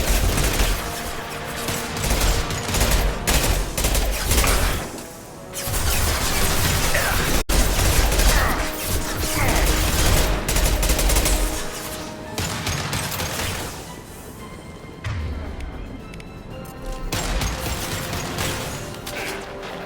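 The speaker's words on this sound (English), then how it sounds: "Firing concussive shot!" Sustained gunfire and concussive blasts from the shooter video game Mass Effect 2 form a loud, dense wall of sound. Bursts and explosions roll over one another for nearly twenty seconds with brief lulls, and no voices are heard.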